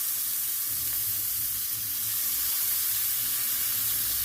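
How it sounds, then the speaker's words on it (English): Meat patties sizzle steadily in a frying pan at lunchtime, a continuous close hiss of frying fat with no voices. "do the sizzle until they're ready for a flip"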